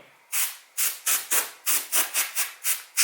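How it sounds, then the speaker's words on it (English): Short bursts of compressed air blow dust from inside an opened 2011 MacBook Air during a battery swap, about ten sharp hissing puffs in a fairly steady rhythm, close and loud with quiet gaps between. "I can use compressed air a little bit."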